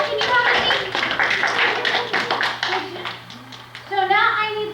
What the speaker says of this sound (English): Round of applause for my dinosaur dad